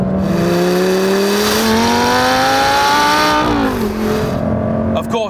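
A Lamborghini Gallardo Superleggera accelerates hard, its engine note climbing steadily through the revs in a loud, close wail, dipping briefly at a gear change before rising again.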